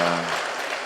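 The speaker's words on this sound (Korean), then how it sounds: "우리 박수 한번 보내주시기 바랍니다." A church congregation during a Sunday worship service claps for a visiting guest, a brief burst of clapping with a faint tonal hum beneath it.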